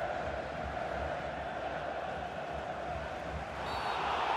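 Stadium crowd in FIFA 18 during a Mexico versus Switzerland World Cup 2018 match: a steady, dense roar of spectators with a broad wash of applause and noise, continuous and full throughout, swelling slightly near the end, with no clear voices.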